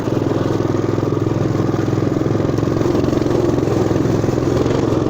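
A Motoland RT200 pit bike rides through mud, its small engine droning steadily with a pulsing, clattery exhaust note that stays loud and constant throughout.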